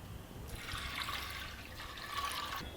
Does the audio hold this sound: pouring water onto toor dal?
yes